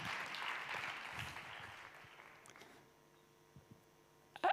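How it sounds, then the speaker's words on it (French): Conference audience applauding at a communications festival talk, a steady wash of clapping for a couple of seconds that fades out, followed by near silence with a few small knocks. "Merci, on l'applaudit bien fort."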